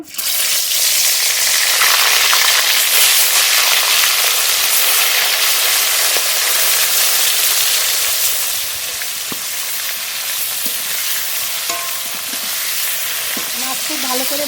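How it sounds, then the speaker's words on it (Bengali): Tilapia fish frying in very hot mustard oil in a kadai, a loud, steady crackling sizzle that holds throughout, easing slightly partway with a few scattered pops and spatters. "তেল খুব ভালো গরম হয়ে গেছে মাছ দিয়ে দেবো"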